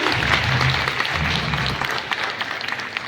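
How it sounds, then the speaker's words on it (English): Audience at an international conference clapping together, a dense, loud round of applause that holds steady and then thins toward the end with scattered individual claps. "A huge round of applause, ladies and gentlemen."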